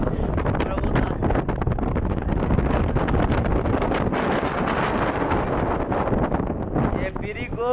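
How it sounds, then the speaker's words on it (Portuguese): Strong wind gusting across a microphone atop the CN Tower, a loud continuous roar and buffeting throughout, with people speaking underneath. "como a gente está no topo é mais frio, né? Fica mais, passa mais vento."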